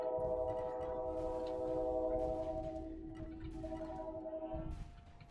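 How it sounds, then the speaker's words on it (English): A train in the video game Spiral Knights rumbles past with a sustained tonal horn-like drone that holds for several seconds, then fades and cuts off near the end. No talk. "Oh, there's the train."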